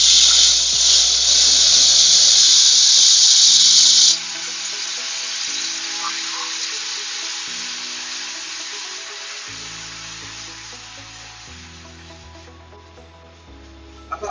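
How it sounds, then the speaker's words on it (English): Hot water being poured into a pot for Thai coconut soup (tom kha), a loud hissing rush for about four seconds, then a steadier bubbling sizzle that slowly fades, with faint tonal hum in the background. "I'm gonna get hot water into that."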